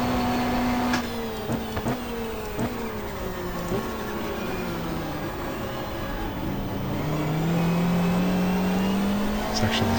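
A Schnitzer BMW race car engine at the 1994 GTR2 Pukekohe 500 closes in through back markers, revving and shifting as its pitch rises and falls, loud and steady with a commentator talking over it.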